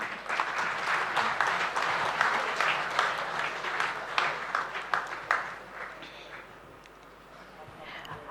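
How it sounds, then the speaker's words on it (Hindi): Sustained applause from a crowd at a Hindu spiritual program with Swami Chidanand Saraswati, steady and dense for several seconds, then thinning and fading toward the end. "उन लगातार तालियों के साथ"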